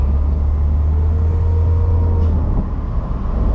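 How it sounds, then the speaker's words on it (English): A 1998 Mercedes-Benz SLK 230 with a supercharged engine and no resonator gives a deep, steady exhaust drone while driving. The low rumble is loud and constant throughout, with a faint higher whine above it. "Has a nice exhaust."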